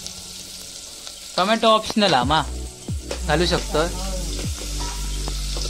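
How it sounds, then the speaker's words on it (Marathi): Four cloves of garlic and chopped onion sizzle steadily in hot oil in a cooking pot, a continuous close frying hiss running under a woman's speech. "टोप तापलेलो हा, तेल घातले मम्मी, तेल तापला, 4 पाकळे लसूण, कांदा"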